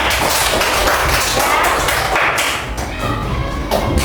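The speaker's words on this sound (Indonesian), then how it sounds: "tepuk tangan untuk kelompok Kalimantan Barat" A group of people clapping for the West Kalimantan team in a classroom or workshop session, a dense steady patter of hands filling the whole stretch at close range, with a few voices mixed in.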